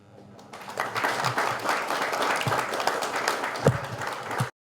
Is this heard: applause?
yes